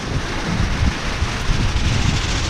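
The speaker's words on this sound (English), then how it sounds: "This wind is getting really bad." Strong wind gusts roar across an open house building site, a loud, steady buffeting rumble with low-end microphone wind noise and no talk.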